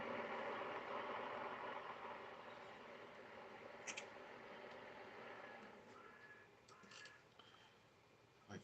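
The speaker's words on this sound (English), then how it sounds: "it's pretty quiet in the cabin, but you can still hear the engine" Steady low engine drone of a tractor heard from inside a quiet cab in Farming Simulator 22, a continuous idle with a few faint high beeps and clicks over it, no talking.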